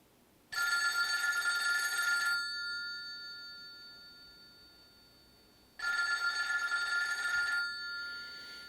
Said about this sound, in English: I love the audio effect of the phone calling again